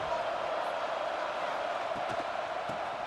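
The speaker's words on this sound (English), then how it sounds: "Listen to the crowd energy here in the early going." Stadium crowd noise from the video game EA Sports College Football 26, a steady wash of distant cheering and roar at moderate level with no break, a few faint bumps underneath.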